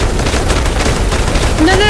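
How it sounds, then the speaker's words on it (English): Rapid, loud gunfire from a Fallout 76 match, dense overlapping bursts of shots filling the whole moment, with a voice talking over the shooting. "They shot beside me right there."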